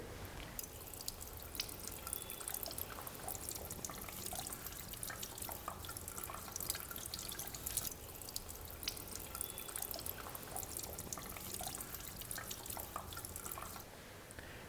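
Water swishes and drips steadily as a toner-transfer printed circuit board soaks while the top paper is gently peeled away, faint and continuous with small splashes throughout.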